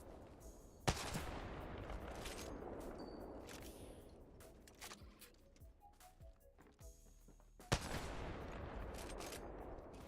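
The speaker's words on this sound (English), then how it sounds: "Joker's shooting at me." Video game gunfire crackles in a couple of sharp, loud shots amid quieter rapid bursts and a busy background of in-game effects, all fairly close and without clear talk.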